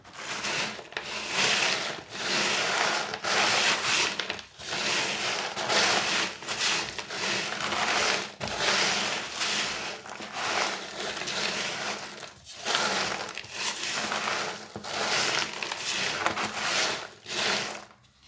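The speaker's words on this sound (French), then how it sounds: "on va commencer par mélanger le crisprol broyé et la fraise broyée" Dry crushed Crisprol breadcrumb and crushed strawberry groundbait ingredients being mixed by hand, a close, continuous crunching and rustling with steady rubbing texture and brief pauses, no talking.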